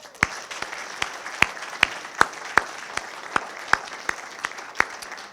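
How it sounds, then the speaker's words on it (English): Applause at an awards finale: crisp individual claps stand out in a loose, steady rhythm over a softer wash of clapping from a modest crowd. "So please join me once again with a round of applause."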